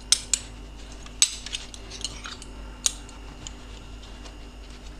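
Metal spoons clink one after another into a dishwasher's cutlery rack in a home kitchen, a few sharp, separate taps and rattles spaced over several seconds against a quiet background.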